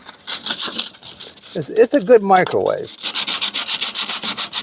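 Sandpaper scrubs peeling paint on a truck, with a steady run of rhythmic back-and-forth rasping strokes close to the microphone, and someone speaks briefly in between.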